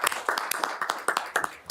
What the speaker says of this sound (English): I think we give him some applause just for how he's facilitated the group